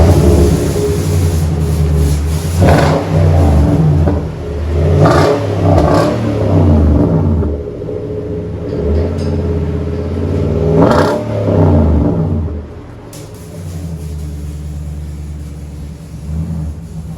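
Nissan Titan 4x4 Flex Fuel pickup with a 5.6L V8 and a Flowmaster Super 10 dual-in, single-out exhaust with a new tip, revved repeatedly in several loud blips over a steady deep idle rumble, heard close with no talking.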